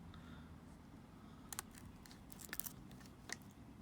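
Scissors snipping a fireworks fuse at an angle, a few short crisp cuts in quick succession over a faint background, quiet and close.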